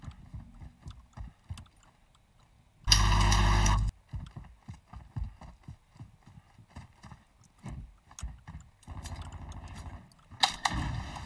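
Gunfire in Call of Duty MW2 (Modern Warfare 2): a loud, sustained burst of shots lasting about a second, then a quieter patch of rapid clicks and thuds, and a second sharp burst near the end.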